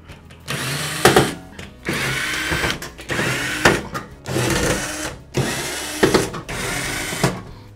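Cordless screwdriver backing out the screws of a washing machine's rear panel, several short whirring bursts with brief pauses between them, close and fairly loud, no talk.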